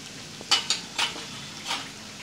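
Spoon stirring red chilli powder, amchur and garam masala into dabeli masala in a pan: a handful of soft scraping strokes and light clinks against the metal, close and fairly quiet.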